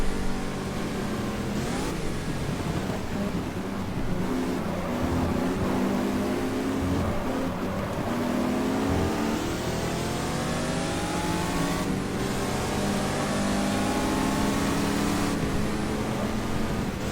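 A Ford GT40 engine in the racing game GT Legends revs up and down continuously, with rising and falling harmonic sweeps of a loud, close engine note and no talking.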